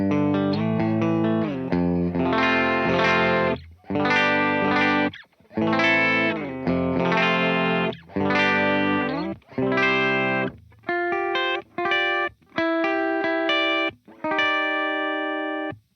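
Electric guitar in a clean tone run through a compressor pedal, ringing strummed chords and sustained notes in bursts with short gaps, close and full.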